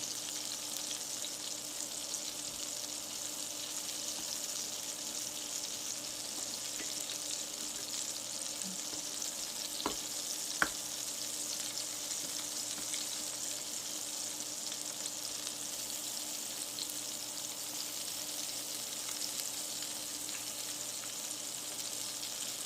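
Salmon fillets sautéing in a pan give a steady, soft sizzle and crackle throughout, with a couple of faint clicks partway through and no voices.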